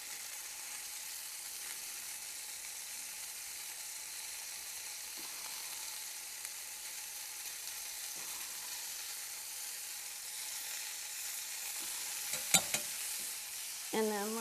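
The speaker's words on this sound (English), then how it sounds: "let's just grab a fork and we'll give these a little bit of a stir. All we really want to do is blister the tomatoes." Tomatoes blistering in a pan are stirred with a fork over a quiet, even sizzle, with faint scrapes and a few light clinks toward the end.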